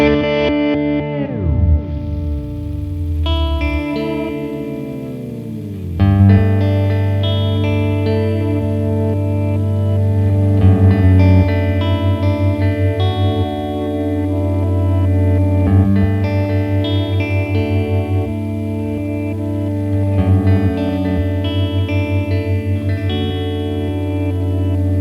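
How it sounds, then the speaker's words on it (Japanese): A guitar effects pedal with its clock lowered gives a noisy, buzzing ambient drone, with sustained shimmering guitar tones, falling pitch sweeps and a gritty low hum that stays loud and continuous throughout. "クロックを落とすとジーというノイジーなアンビエントになるのが良くて"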